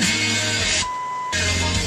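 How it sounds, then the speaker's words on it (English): A single steady electronic beep from the original radio of a 1964 Chrysler 300, a pure tone lasting about half a second, sounding over a loud broadband hiss of radio static that drops away while the beep plays. "We'll let it beep once."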